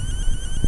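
Metal detector emitting its overload alert: a short, steady electronic tone with a high pitch and faint harmonics, close and clear, lasting under a second over a low background rumble.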